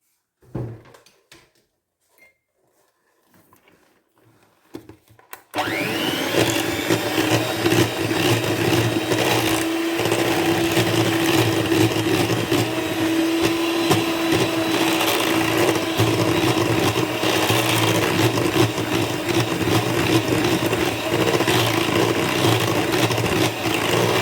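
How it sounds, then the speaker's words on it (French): Electric hand mixer whipping cream with cane sugar for a red-fruit tiramisu-style Yule log, a steady loud motor whir that starts abruptly after a few quiet seconds and runs on unbroken. "Là je vais rajouter 100 g de sucre de canne et je vais remélanger avec le batteur."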